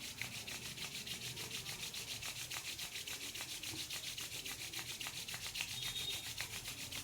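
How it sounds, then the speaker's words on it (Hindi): Two hands rubbed briskly together in a steady rhythmic swish, close and soft, continuing evenly for several seconds with no talk. "फिर से एक बार अपने दोनों हाथों को रब कर लीजिएगा।"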